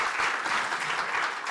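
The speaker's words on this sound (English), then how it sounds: "A big round of applause for Sarah," Steady, dense applause from an audience at a tribute evening celebrating Pheroze Nowrojee, given for a speaker named Sarah, continuous clapping throughout with no talking.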